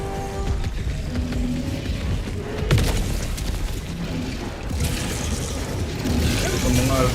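Enemy artillery booms in the video game Helldivers 2, heavy muffled blasts and rumbling impacts rolling through a noisy battle mix while a player speaks over the action.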